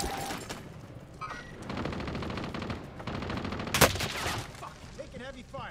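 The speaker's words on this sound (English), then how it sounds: "Taking heavy fire." Video game gunfire crackles in rapid bursts, with a sharp loud shot near the middle and scattered shots throughout, mixed with faint game noise and occasional talk.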